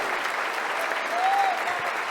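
A church congregation claps steadily at a Portuguese-language service, a dense even wash of applause heard from within the room, with a faint whistle-like tone rising briefly in the middle.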